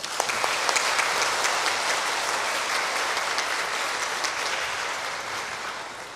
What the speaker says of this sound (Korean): 나오실 때 크게 박수 한번 해주시기 바랍니다.